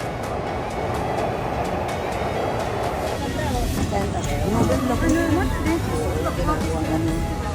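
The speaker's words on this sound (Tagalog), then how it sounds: "Ayun, may train sa taas." A train rumbles past on an elevated track overhead in Asakusa, Tokyo, a steady low roar that swells and carries on while people chat nearby under the noise.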